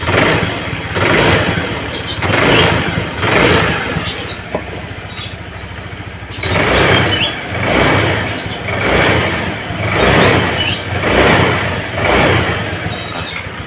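A motorcycle fitted with a freshly serviced vacuum carburetor revs up and settles back down in repeated, even pulses. There are a few short gaps between the revs, and no one speaks.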